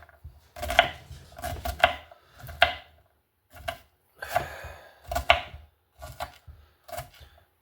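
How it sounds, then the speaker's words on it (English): Fresh onions chopped with a knife on a cutting board, a brisk series of crisp, close thuds coming in quick bursts with short pauses between, heard alone without talk. "Cutting fresh onions."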